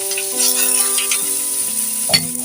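Chicken pieces fry in their own rendered fat in a pan for chicken sa gata, with a lively crackling sizzle alongside steady tonal hum and a brief stir near the end.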